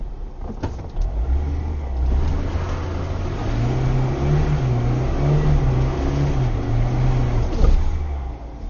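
A car with new tyres revs hard while its wheels spin on a steep slope, the engine droning and rising and falling in pitch, loud and close.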